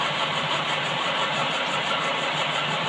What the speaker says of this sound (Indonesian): ini untuk membuat ulir itu juga menggunakan mesin bubut